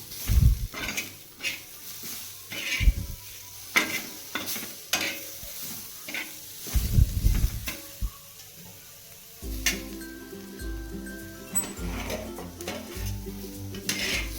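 Metal spoon scraping and stirring onion, coconut and spices frying on a griddle for Maharashtrian bazaar amti, with sizzling, irregular clanks and knocks, then a steadier hiss of frying toward the end.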